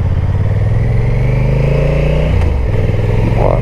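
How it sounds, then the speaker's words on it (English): 2022 Honda NT1100 motorcycle accelerating on the road with quick shifter gear changes: a loud, close, continuous engine drone rising in pitch, with brief dips and jumps near the end as gears shift smoothly. "I'll demonstrate the quick shifter, how smooth the quick shifter is."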